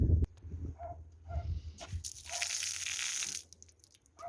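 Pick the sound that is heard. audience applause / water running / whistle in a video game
water running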